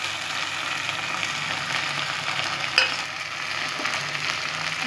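Onion and ginger frying in oil in a pan for chicken kasha, a steady moderate sizzle with an occasional spoon scrape from stirring, no talk.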